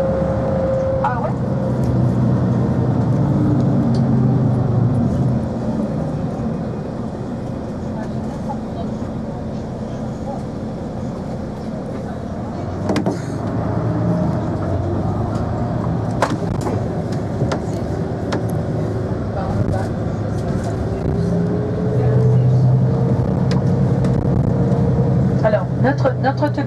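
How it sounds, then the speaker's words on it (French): A bus ride on Madeira near São Vicente, with a steady low engine rumble and shifting gear whine that rise and fall over nearly half a minute, while people talk over it. "Notre autobus va nous déposer ici à l'arrêt de bus."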